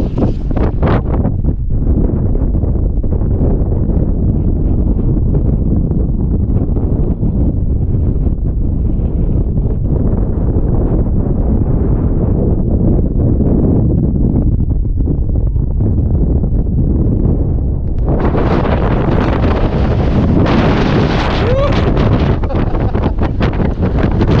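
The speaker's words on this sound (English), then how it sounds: "there's such a strong wind that you won't hear any word I would say" Strong, cold high-altitude wind at Paso Sico buffets the microphone in a loud, continuous rumble for the whole clip, with a harsher, hissing gust building near the end.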